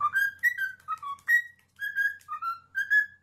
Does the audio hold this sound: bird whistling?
yes